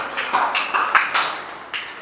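Church congregation applauding during a Spanish-language sermon, a loose spread of claps with several sharper accents, moderately close and steady for a couple of seconds with no talk over it.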